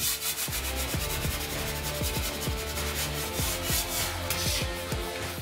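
A clean knife blade scrapes across wall filler in close, continuous strokes, producing a dense, even rasping sound with quick repeated passes and no talking.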